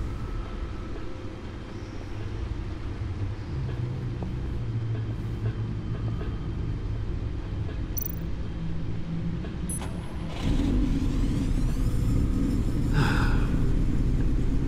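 A powerful car engine of over 600 horsepower in Batman: The Enemy Within, rumbling low and steady, then revving louder and heavier partway through, with a few faint clicks and no talking.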